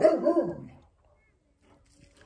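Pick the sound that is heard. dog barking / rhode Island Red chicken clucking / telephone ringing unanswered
dog barking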